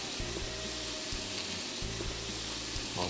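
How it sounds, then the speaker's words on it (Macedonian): Tripe frying in a pot: a steady close hiss of sizzling fat with a low bubbling rumble underneath, continuous, with no talk. "Оставаме со шкембето да се пропржува."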